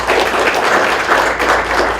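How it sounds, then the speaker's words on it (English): Audience at a business meeting clapping loudly and steadily, a full round of applause heard close throughout. "I would like to request you to have a big round of applause to all of us first"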